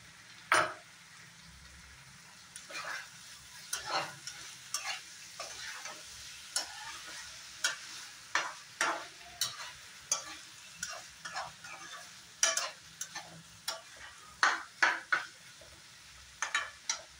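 Lauki and potato curry with green chili being stirred in a pan: a quiet background sizzle broken by repeated sharp scraping clicks of a spoon against the pan, irregular but frequent, with no talking.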